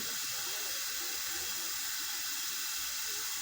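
A soft, steady hiss of water simmering in a pot with faint bubbling, continuous and fairly quiet, with no voices.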